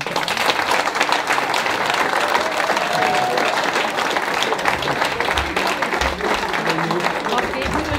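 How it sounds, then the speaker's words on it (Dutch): An audience applauds at a fire brigade farewell in Mill, with sustained, even clapping from a crowd throughout and some voices mixed in underneath. "Daarom jullie applaus."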